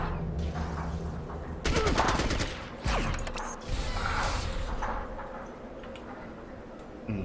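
An enemy opens up with a light machine gun in Fallout Tactics: rapid bursts of sharp shots crackle at moderate distance, with mechanical clicks and quieter gaps between volleys and lingering background ambience.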